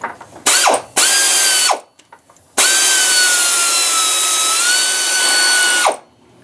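A ratchet on a long extension works 14 mm power steering bolts loose on a 1997 Dodge Ram, giving loud, close whirring bursts: two short runs, then one long steady run with no talking.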